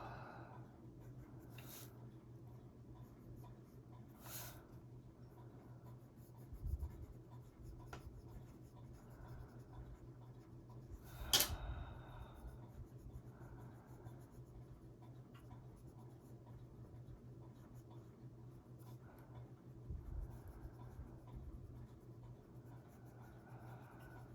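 Colored pencil scratches softly across paper in a coloring page, a faint continuous scraping with a few louder strokes and taps, close and quiet, with no talking.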